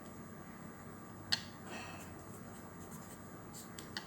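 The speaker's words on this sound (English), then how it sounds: "Now write down the ratio." A pen writes on paper during a math lesson, giving a faint, soft scratching with a few sharper taps and strokes scattered through the quiet.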